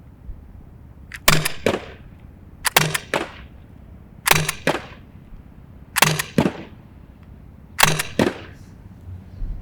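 Five sharp pairs of paintball gun shots fired at a target about 30 feet away, each pair a quick double pop spaced about 1.5 seconds apart, close and loud against a quiet outdoor background.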